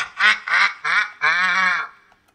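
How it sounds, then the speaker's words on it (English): Duck quacks in a video game: four loud, close, nasal calls in quick succession, the last drawn out longest, with nothing else behind them. "Is that a duck?"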